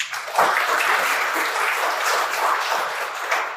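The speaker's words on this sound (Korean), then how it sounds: "박수로 환영해 주십시오." A hall audience at an academic symposium applauds in a dense, steady wash of clapping that holds for several seconds at fairly even loudness, welcoming a discussant.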